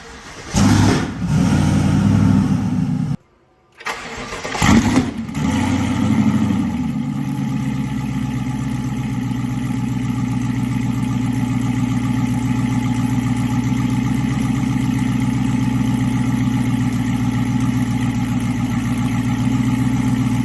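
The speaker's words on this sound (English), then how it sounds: "as you saw, the truck runs" Engine of a twin-turbo GMC Denali truck cranks and catches after a short break, revving briefly before settling into a steady, loud rumbling idle that continues alone.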